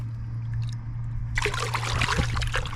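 A snook is released back into the water, and a sudden burst of splashing and sloshing starts midway and continues, loud and close, over a steady low engine hum.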